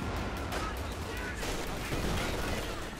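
Dense battle noise from the strategy game Company of Heroes 2, with continuous rifle and machine-gun fire and grenade blasts blending into a steady loud wall of combat sound throughout.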